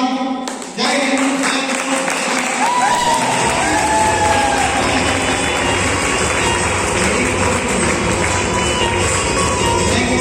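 A large audience at an MLM motivational event breaks into loud, sustained applause mixed with cheers and shouts, a dense wall of clapping that runs without a break.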